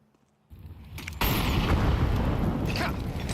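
Grenade blasts during a Counter-Strike match at PGL Bucharest, a sudden loud burst followed by a dense, sustained rumbling roar that fills the rest of the moment.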